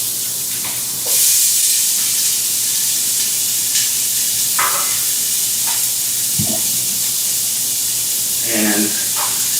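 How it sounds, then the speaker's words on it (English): Onion and corn sautéing in a pan on a stove in a cooking class, giving a loud, steady sizzle and hiss throughout, with a few faint clinks and stirring sounds on top. "at this point, you can hear, we got some sizzle going on"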